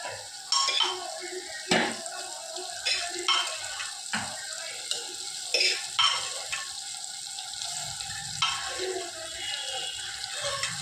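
Boiled peas stirred into tomatoes sautéing in a pan: a soft, wet sizzle with intermittent scraping and clattering strokes of a spoon, moderately close and fairly quiet.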